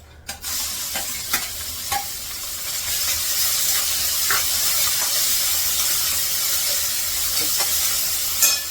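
Steady sizzling of onion and tomato sautéing in hot oil, with a few sharp stirring scrapes and clinks scattered throughout; close and continuous, no talking.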